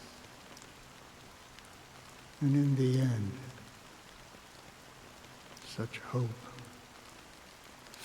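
Steady soft rain falls in the Honkai Star Rail game as a faint continuous patter, with a voice speaking over it twice.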